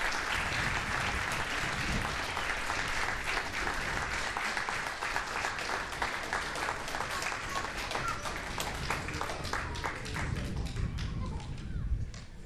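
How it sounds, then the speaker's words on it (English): Sustained, dense applause from an audience honoring officers at the Yorktown Police Department awards ceremony, steady and fairly loud throughout, with clustered sharp claps and a brief low thud near the end. "A nice round of applause for our officers."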